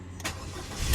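A Ford Fiesta Zetec with rear-end damage cranks and catches in a brief, close start, a quick burst of engine noise that settles into a low running rumble.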